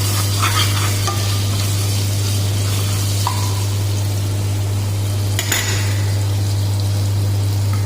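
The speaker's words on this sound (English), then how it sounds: "We put little ginger garlic, like little, okay, and have to saute little bit." Ginger and garlic sauté in hot oil over high heat, giving a steady sizzle with a constant low hum beneath and a few clinking stirs, no one talking.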